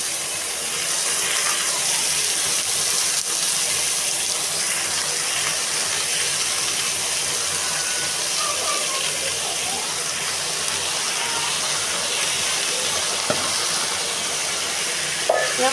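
Leafy greens hissing and sizzling steadily in a hot pan on a home kitchen stove, a continuous close frying noise with faint stirring scrapes and no talking.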